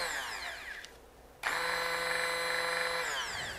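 Mueller immersion blender whirring at full blast with a steady high-pitched motor drone, briefly cut then restarting loudly and running evenly, close by with no talking.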